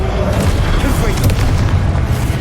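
A Confringo blasting curse explosion in Hogwarts Legacy, a loud booming, rumbling blast with a dense low-end roar sustained across the moment.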